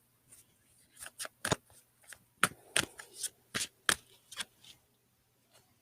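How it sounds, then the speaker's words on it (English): A deck of cards being shuffled close by, a series of sharp riffling bursts with short pauses between them, no talking. "Let me shuffle these cards."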